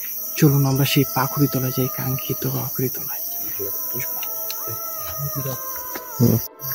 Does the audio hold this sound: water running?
no